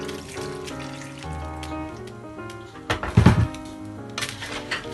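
Two cups of water poured from a measuring cup into a cooking pot for a bottle gourd and pardhi sabzi, a soft splashing burst in the middle amid quiet kitchen clatter.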